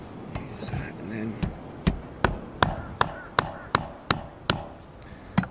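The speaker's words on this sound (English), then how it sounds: "I'm not hitting this directly with the mallet because I don't wanna damage the screen, so I'm using the handle of the hammer just to insulate the blow" Sharp, regular knocks as a hammer handle taps a fitting on an electric drill snake used to clear a clogged drain, about a dozen crisp strikes at an even pace, close and clear, with soft talk beneath the first few.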